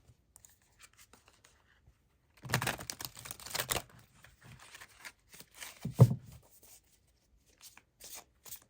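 Tarot cards are shuffled and drawn in short bursts of papery riffling and flicking, close and fairly quiet, separated by near silence.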